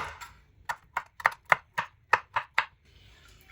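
A knife chops a green chili lengthwise on a cutting board, about nine crisp, evenly spaced taps close up with near silence between them.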